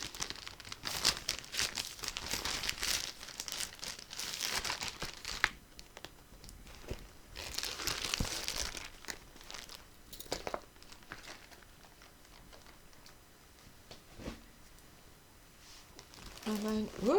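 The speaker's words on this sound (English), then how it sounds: "Sorry for any crinkling." Plastic packaging crinkles and rustles in close, irregular bursts during a cross-stitch session, with a quieter stretch midway and a fresh burst at the end.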